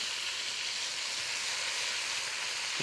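Onions sizzle steadily in hot oil in a pot, a dense, even frying hiss with no voices, close and loud throughout.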